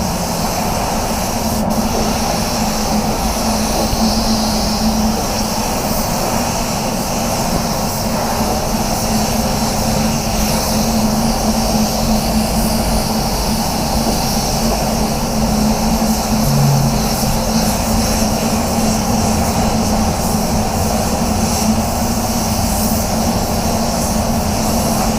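A spray gun lays a wet coat of red automotive paint on the rear panels of a car, a loud continuous hiss with a steady roar running unbroken throughout, with no talk.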